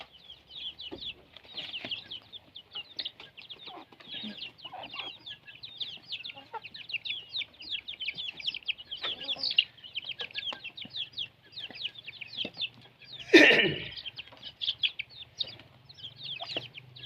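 A flock of ducks chatters in dense, faint peeps and calls without a break. One louder, harsher call rises near the end, and there is no talking.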